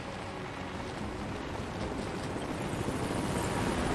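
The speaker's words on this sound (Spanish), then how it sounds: "Un helicóptero ruso." A Russian military helicopter approaches in Rise of the Tomb Raider, its rotor drone a broad, continuous rumble that grows slightly louder over the few seconds, with no speech.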